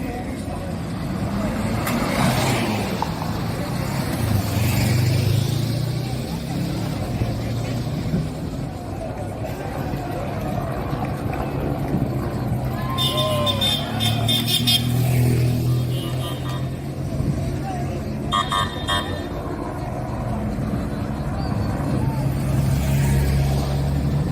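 Motorbikes and police cars roll past at a Portuguese street festa for Filomena, a steady rumble of engines through a lively crowd, with brief sirens or horns in the mix and people talking throughout.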